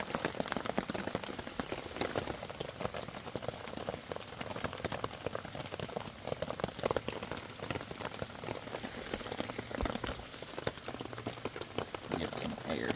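Heavy rain pours steadily onto a tent at a rainy autumn campsite near a waterfall, a dense, constant patter of drops close overhead with no letup.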